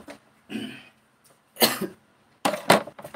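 Three close, loud bursts of coughing from one person, separated by short silences, the last a quick double cough.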